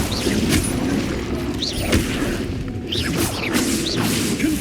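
Hogwarts Legacy's Incendio fire spell crackles and whooshes amid dense game combat, with several sharp bursts, swishing casts and impacts in quick succession over a busy, continuous background.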